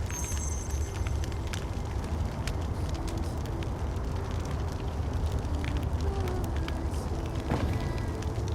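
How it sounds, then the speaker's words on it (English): A fire crackles steadily in the video game Where Winds Meet, a dense bed of soft pops and snaps that runs unbroken throughout with no one talking. "I'll watch the fire."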